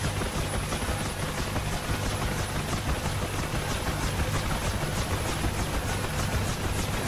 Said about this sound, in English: It's a dust off medevac Huey.